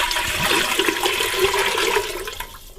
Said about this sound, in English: take this half gallon of water and pour it into my big pot over here.